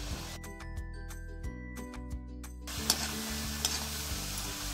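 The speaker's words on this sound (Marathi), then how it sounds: "आता आपण नमक पारी यामध्ये तेलामध्ये घालून घेऊ" Namak pari, salted Diwali dough pieces, frying in hot oil over a high flame, giving a steady close sizzle with occasional light clinks of a utensil against the pan.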